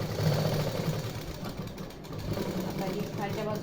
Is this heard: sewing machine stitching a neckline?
yes